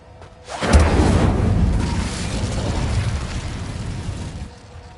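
An Incendio fire spell cast in Hogwarts Legacy bursts with a heavy, booming whoosh that swells quickly, holds as a loud roaring rumble for several seconds, then fades, with no voices over it.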